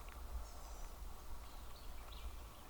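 Soft, distant bird chirps now and then over a quiet outdoor hush with a low rumble underneath.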